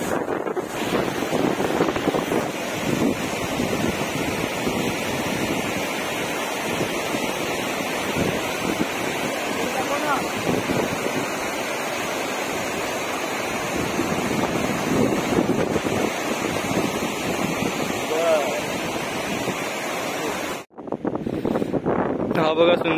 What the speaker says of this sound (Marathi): आणि हवा सुटलेली आहे फुल